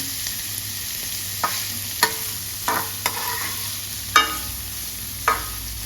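Onion fries in a pan for a javla dried-shrimp dish, a faint continuous sizzle punctuated by a few sparse scrapes and taps of a spatula, close but fairly quiet.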